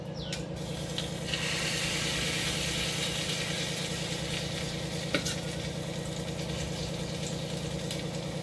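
A ladleful of bun dosa batter poured into ghee with sesame seeds in a tempering pan fries with a steady close sizzle and crackle, and a low hum runs underneath.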